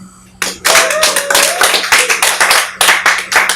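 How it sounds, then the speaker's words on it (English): Audience clapping in a live comedy setting, a burst of applause starting abruptly and continuing as a dense, uneven patter of many hands, loud and close with no talk over it. "Clap if you've traveled more than 3 countries."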